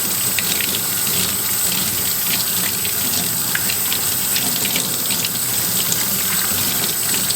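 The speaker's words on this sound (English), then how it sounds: "Until the black water, gray water starts coming off" A Karcher KC5 hard floor cleaner runs dirty gray water through its system, giving a steady, continuous watery rush with a faint rattling pump underneath, close and unbroken throughout.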